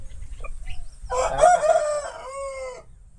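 Aseel rooster crowing once, close and loud, a drawn-out call rising then trailing off, preceded by faint clucks and low background rumble.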